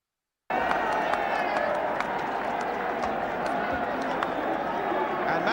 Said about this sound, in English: they've done the right thing all afternoon, clapping Liverpool down as a marvellous gesture